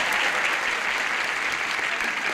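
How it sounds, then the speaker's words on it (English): A game-show studio audience claps continuously in loud, dense applause that holds steady throughout with no break. "You want to applaud again"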